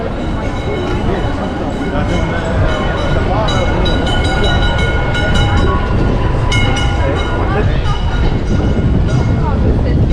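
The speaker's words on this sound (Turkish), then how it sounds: "Şöyle tramvayı da çekeyim size." A tram rumbles and screeches along a busy street in Beyoğlu, Istanbul, loud and close, with metallic squeals over steady rolling noise and people talking nearby.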